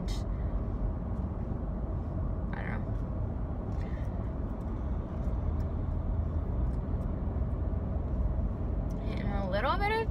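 Steady road traffic rumble fills the whole stretch at close range, with brief hiss bursts and a voice speaking near the end.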